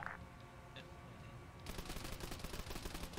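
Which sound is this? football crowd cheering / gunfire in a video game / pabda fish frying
gunfire in a video game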